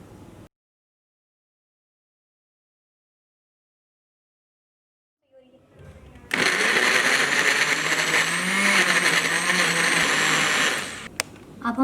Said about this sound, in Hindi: इसके लिए हमें ब्लेंडर चाहिए